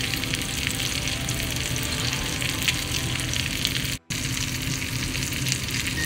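Spinach being stirred into potatoes in a pan for a quick Belgian recipe gives a steady close sizzle and frying crackle with soft stirring scrapes, continuous for several seconds and broken only by a brief silent gap partway through.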